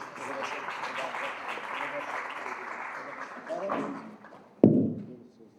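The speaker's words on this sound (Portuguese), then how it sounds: "Uma salva de palmas a Jesus por isso." Audience applause at a business summit opening in Brazil, a steady wash of clapping that swells slightly near the end, then a single sharp thump as it fades out quickly.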